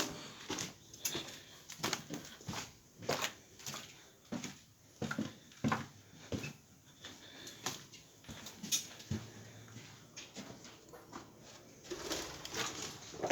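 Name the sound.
pigeons cooing and fluttering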